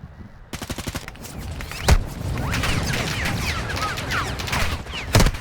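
Heavy enemy gunfire in Call of Duty: Modern Warfare 2, with rapid automatic bursts and scattered single shots, loud and close, plus a couple of sharp impacts throughout.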